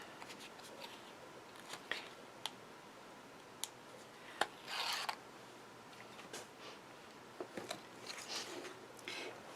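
Scissors snipping through card while making a see-through card with acetate, faint crisp cuts spaced out over quiet handling rustles, with a few louder snips and a brief scraping pass.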